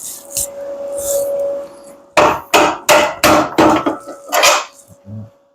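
Seven sharp metallic hammer strikes in an uneven rhythm, close and loud, while a 1957 Chevrolet Bel Air spring relocation kit is installed, with a steady hum underneath and quieter taps before.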